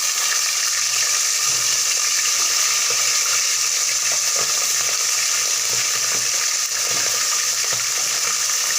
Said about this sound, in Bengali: এবার রোস্টের পিসগুলো ভেজে নিব